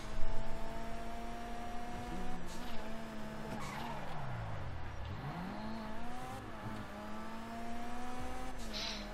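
A car drifts in GTA V Online, its engine droning and pitching up and down while the tires squeal through a long slide. The sound stays steady and fairly close the whole way through.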